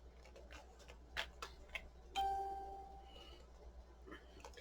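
A phone set to silent still dings with notification chimes, one clear ringing tone that rings out and decays, preceded by a few soft ticks and taps in a quiet room.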